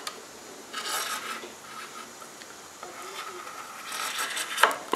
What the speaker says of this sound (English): I'm going to trim this Kevlar.